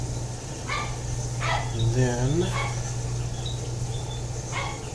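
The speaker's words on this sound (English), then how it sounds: "can you hear the dog barking?" A dog kept away from cats barks a few times in the background of a home kitchen, sharp yips and a short whining bark standing out from a steady low hum while a person speaks briefly nearby.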